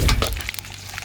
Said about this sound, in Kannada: ಇವಾಗ ಫ್ರೈ ಮಾಡ್ಕೋತೀವಿ.